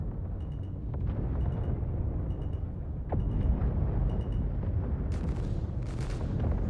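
Guns firing in a video game make a dense, continuous low rumbling barrage with occasional sharper cracks and bright bursts, loud throughout.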